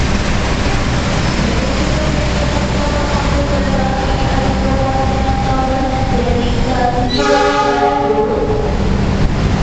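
The Argo Parahyangan Fakultatif passenger train pulls into Gambir station, a loud continuous rumble of rolling carriages and wheels with a sustained horn blast near the end, heard up close.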